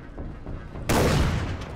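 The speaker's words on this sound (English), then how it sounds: "I really dig the sniper rifle." A sniper rifle fires in Far Cry 3 Blood Dragon, a single loud, sharp report bursting out of a low background rumble and trailing into a sustained boom.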